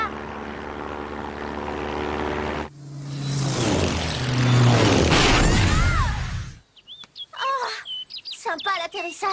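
A cartoon flying craft crash-lands in a forest: a droning engine hum swells into a loud, chaotic crashing rumble, then gives way to scattered high chirps and squeaky cartoon sounds.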